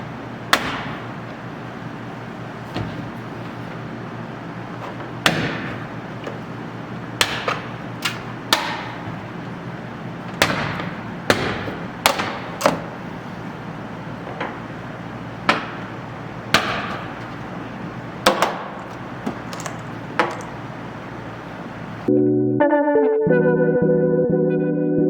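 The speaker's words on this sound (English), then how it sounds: "pop the corners loose and then start working your way around all these pull tabs" Plastic interior panel pull tabs popping loose one after another during a vehicle roof rack install, giving sharp, irregular snaps and clicks close up over a steady background hiss, followed by a brief louder rattling at the end.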